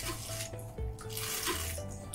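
A Handy Oil Pump hand pump draws dirty water through a thin tube, giving a quiet, steady sloshing and gurgling flow with faint clicks, and no voices.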